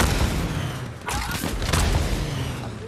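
Gunfight in a video game, with a dense run of booming, thudding shots that keeps up steadily for about three seconds, loud and fairly close, with faint voices under it.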